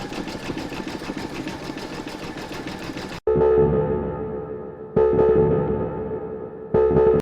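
Domestic sewing machine stitching an appliqué with pink thread, first a steady busy whir, then three loud close bursts of running with a sharp motor hum, stopping and restarting between them; no talking.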